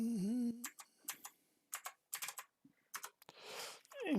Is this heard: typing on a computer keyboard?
yes